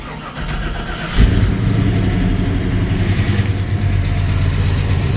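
A 1984 Chevrolet K5 Blazer Silverado V8 idles steadily after a brief rise in revs, with a deep, even rumble close by and a faint fan blowing underneath.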